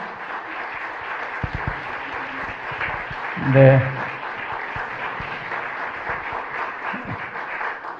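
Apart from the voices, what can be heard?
church congregation applause after Christmas cantata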